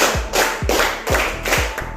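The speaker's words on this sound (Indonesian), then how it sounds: "Tepuk 1, tepuk 2, tepuk 3" A class of students claps in counted time, four crisp claps evenly spaced roughly every half second, loud and near with no talking.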